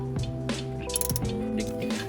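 A wrench works a bolt loose on a car, producing a rapid series of sharp metallic clicks and ratcheting clinks in quick rhythm, close by and fairly loud.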